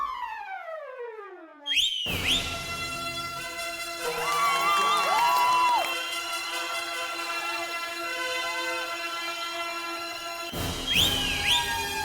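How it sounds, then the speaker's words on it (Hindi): A whistle accidentally blown twice during a comedy scene: two short, shrill blasts, one near the start and one near the end, over a steady background of music with no talking. "गलती से 2 बार सीटी बज गई"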